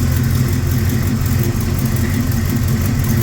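A pickup truck's 350 Rocket V8 runs steadily with a deep, rumbling low-end drone, loud and close with no voices.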